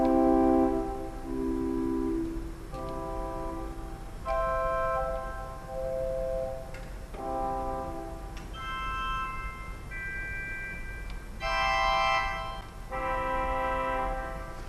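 Individual pipe organ stops from one console division sounded one after another, sustained chords and tones of varying brightness held for a second or two each with brief breaks between, full and resonant in a large room, no talking.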